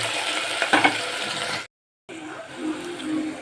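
Washed split pea dal and rice frying in a pan for khichuri, a steady hissing sizzle with brief stirring scrapes, a short silent gap partway through, then the sizzle resumes more softly.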